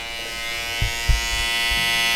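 Electric hair trimmer shaping a beard during a Caesar fade haircut, its tip working the edges, giving a constant close buzz with a couple of soft bumps as it touches the face.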